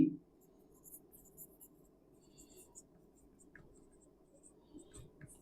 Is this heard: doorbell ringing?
no